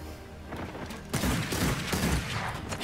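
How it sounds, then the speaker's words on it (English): Gunfire in the video game Blood Hunt, bursts of shots and booms in a firefight, moderately distant at first and then louder and denser, clustered in rapid volleys. "Oh my god, I hear a lot of gunfire."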